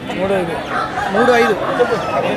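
Roosters crow repeatedly at a poultry market in Anakapalli district, each rising, drawn-out call fairly close, with crowd chatter and clucking underneath.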